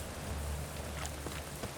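Steady rain falls in The Witcher 3, a constant broadband hiss of drops with no other sound over it, holding level for the whole short stretch.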